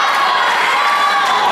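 A wrestling crowd at a STAR SLAM event cheers and roars in a steady, loud wash of voices with scattered whoops, filling the whole moment without a break.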